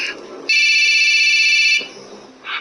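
A telephone rings in the middle of the night, a single loud electronic ring burst lasting over a second, set between quiet room sounds, with the start of another ring at the end.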